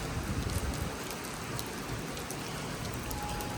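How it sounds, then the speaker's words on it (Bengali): Heavy rain pours steadily at Redfern station in Sydney, a dense, even hiss of falling water from start to finish with no voices. "সো দেখতে পাচ্ছেন খুবই বৃষ্টি হচ্ছে এখানে"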